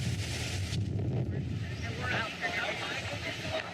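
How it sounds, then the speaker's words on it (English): Fierce gusting wind during the Eaton Fire in Altadena roars steadily and close to the microphone, buffeting it with broadband rumble throughout while a voice speaks over it. "You can see just how ferocious this wind is."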